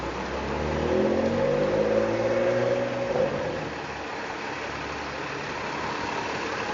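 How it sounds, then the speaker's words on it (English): A 75 Sherbourne city bus in downtown Toronto, its diesel engine idling then revving up as it pulls away close by, rising for a few seconds before settling into a steady low rumble amid street noise. "There's the 75 Sherburne bus."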